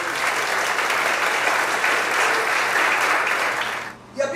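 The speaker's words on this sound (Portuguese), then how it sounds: "Aplauda ao Senhor." Church congregation applauding, a dense, even wash of clapping that holds steady before cutting off abruptly near the end.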